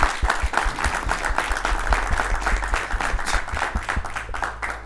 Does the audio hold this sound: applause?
yes